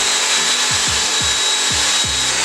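Five rhythmic, low grinding pulses of a drill biting into a solid hardwood desk, evenly spaced over a steady broadband whir, close and fairly loud.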